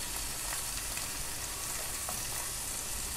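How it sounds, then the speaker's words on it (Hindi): Tomatoes frying in gravy for Kashmiri paneer chaman, a steady close sizzle with soft stirring throughout, no voices. "टमाटर भी हमारे सिकते जा रहे हैं, ये देखिए"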